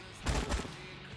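Gunfire in the video game Wasteland 3, heard as a quick burst of two or three muffled, booming shots over about half a second, followed by a lingering low tail, fairly faint and without talk.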